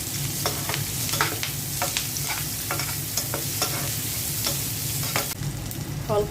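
Chopped onion and green chili crackle in a hot pan while a spatula scrapes and stirs in regular strokes, a loud, close sizzle with rhythmic scraping on top.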